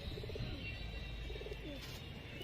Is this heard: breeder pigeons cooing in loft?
yes